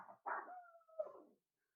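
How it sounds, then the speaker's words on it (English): A dog barks in the background, one short yelp followed by a drawn-out, howl-like bark, fairly faint and alone. "that's my dog barking in the background"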